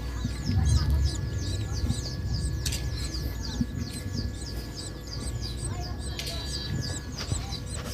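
Newly hatched quail chicks fresh from an incubator, from a first batch of several hundred eggs, peep in a dense, continuous chorus of high chirps over a low rumble, with voices in the background.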